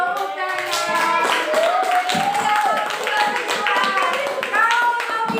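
A group of people in an Indonesian classroom clap their hands in a quick, lively burst of sharp taps that continues steadily, with voices mixed in.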